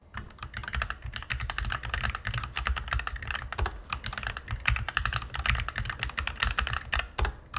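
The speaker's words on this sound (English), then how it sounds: "I'll shut up now for a moment so you can hear the beautiful sound of the Glorious keyboard I'm using" Rapid, steady typing on a Glorious GMMK2 mechanical keyboard, dense clacky keystrokes close to the microphone with no talking, running continuously throughout.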